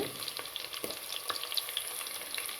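Onion and mixed vegetables fry in a pan with a constant close sizzle and small crackling pops throughout. There is no talking.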